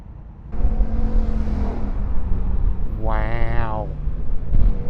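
Motorbikes pass by outdoors in a loud, sustained engine roar with a rising, wavering whine in the middle as one goes past close by, while someone talks.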